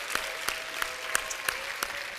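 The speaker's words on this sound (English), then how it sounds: "can we give a big round of applause to all of our speakers so far?" An audience at a performance and mental toughness conference claps steadily, a dense wash of many hands applauding with no voices on top.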